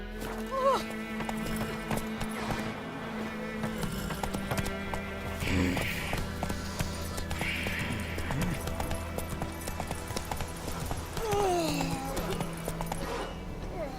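A horse gallops in the video game Witcher 3 with steady, close hoofbeats and an occasional whinny, under game music and bits of talk.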